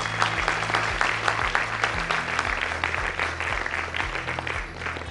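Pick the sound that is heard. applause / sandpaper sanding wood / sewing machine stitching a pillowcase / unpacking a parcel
applause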